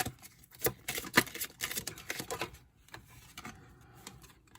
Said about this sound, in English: Can't freaking shuffle these cards.